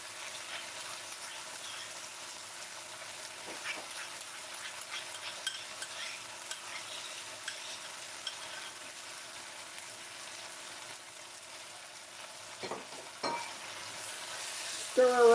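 Sauce for brown stew chicken sizzling in a pan while being stirred, a faint continuous crackle with occasional louder scrapes of the spoon and a clatter near the end.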